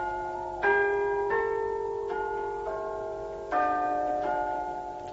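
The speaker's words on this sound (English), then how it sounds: "They arrived in Cambridge as the bells cried 3" Church bells strike three in a radio drama, each resonant stroke ringing out at intervals and decaying slowly, with no voices over them.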